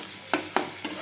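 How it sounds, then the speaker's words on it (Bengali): Masala paste with tomato paste, salt and turmeric being fried and stirred in oil for a wedding-style jackfruit and prawn curry, with three distinct scraping stir strokes over a steady close sizzle. "এখন ভালো করে মশলাটাকে কষছি"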